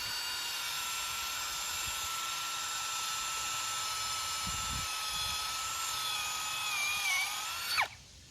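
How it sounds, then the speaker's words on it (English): A power drill with a flat bit boring a hole whines steadily at close range, then its pitch drops and it winds down and stops near the end. "You can use the little flat bits."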